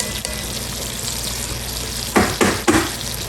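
A fork-tender pot roast browns on its edge in a pot, giving a steady sizzling hiss that swells into three short, louder bursts of crackling near the end.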